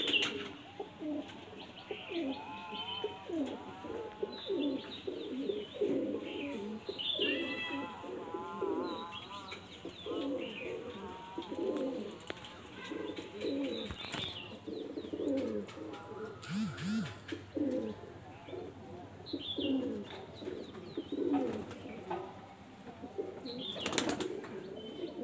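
A female pigeon coos softly in a loft, low murmuring calls repeating under occasional chirps and a brief wing flutter, with someone talking nearby at intervals.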